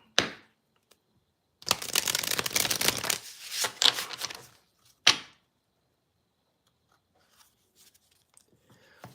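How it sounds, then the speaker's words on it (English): Deck of tarot cards being shuffled by hand, a dense riffling burst lasting a couple of seconds followed by a shorter second shuffle, close and crisp with quiet gaps around it. "I'm going to start shuffling up your cards"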